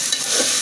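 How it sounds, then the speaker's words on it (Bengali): Ginger, garlic and onion paste sizzles and fries in a pan for a spicy beef curry, giving a loud, steady hiss with a brief stirring scrape, up close and with no talking. "এটা আমি ভালো করে ভাজা ভাজা করে নিই।"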